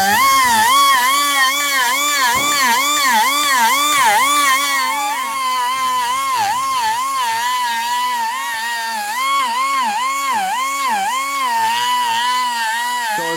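Power sanding disc blending and shaping a seat, a steady loud whine that rises and falls in pitch throughout as the tool loads and eases against the surface, with no talk.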